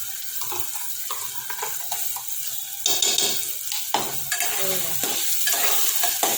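Spiced masala paste fries in oil in a pan for a chicken thali, a steady close sizzle broken by scraping stirs and clinks of the spoon, growing louder partway through, with no talking.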